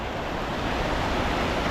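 Mill Creek spills over a small waterfall beneath the River Road bridge, running full after historic rains; a steady, dense rush of water holds constant and close throughout, with no break or voices.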